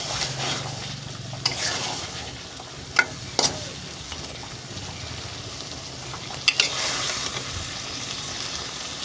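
Fish and four prawns frying together in a pan give a steady close sizzle, with a few sharp clinks and scrapes as they are stirred and turned, and no one speaking.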